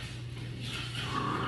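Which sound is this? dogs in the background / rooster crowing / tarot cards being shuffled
dogs in the background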